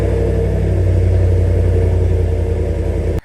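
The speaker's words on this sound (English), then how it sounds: "So I fired up the engine here. Go ahead and do it right now so you can hear what it sounds like with that performance exhaust." A 2021 Chevy Silverado High Country's 6.2L V8 idling through a performance exhaust, a loud, close, deep and steady rumble that holds evenly before cutting off abruptly.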